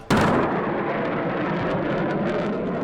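A jet passing overhead at 2,000 feet at Mach 1.07 sends down a sudden loud sonic boom, a sharp blast that rolls into a long, sustained rumble lasting several seconds.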